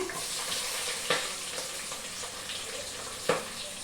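Onions frying in a pan for chicken biryani, a soft continuous sizzle with two sharp stirring knocks, fairly quiet and with no talking.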